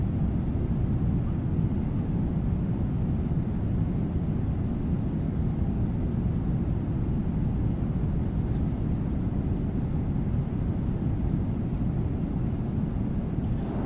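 A PMDG 777-300ER airliner descending in Microsoft Flight Simulator 2024, flown as Air Canada between Toronto and Montreal, gives a continuous, even, low engine and airflow rumble that holds steady throughout with no other sounds.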